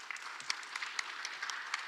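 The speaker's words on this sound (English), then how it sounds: "Please welcome and a very big applause." Brief, fairly faint applause from a conference audience at a public-sector human resource management event, a scattered patter of claps with a few sharper hand strikes, no voices over it.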